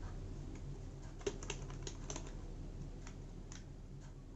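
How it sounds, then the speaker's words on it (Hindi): Keys on a Lapcare D-Lite+ mini keyboard click faintly, with number keys tapped in a loose, irregular series of light presses over low steady room hum. "देख सकते हो अभी नंबर दब रहे हैं।"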